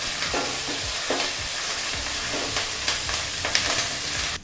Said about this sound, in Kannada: ಈಗ ಇಲ್ಲಿ ಪದಾರ್ಥನೆಲ್ಲ 30 ಸೆಕೆಂಡು ಫ್ರೈ ಮಾಡಾಯಿತು.